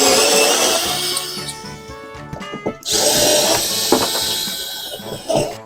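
A power drill backs screws out of a ceiling panel inside a Nissan Caravan van, its motor whining loudly and steadily, then a brief pause and a fresh whir with small clicks and knocks of the bit.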